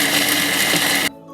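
A Thermomix TM6 chops and mixes breadcrumbs with a loud, steady motor whir that runs for about a second, then cuts off abruptly into a faint hum.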